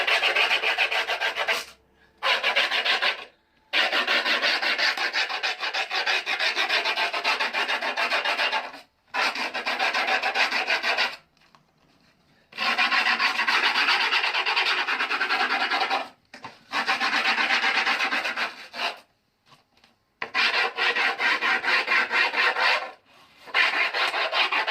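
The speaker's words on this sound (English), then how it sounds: "Now I can even use like an edge of a screwdriver like this" The edge of a screwdriver scrapes along the grip tape edge of a skateboard, making long loud rasping strokes repeated in bursts with short pauses between them.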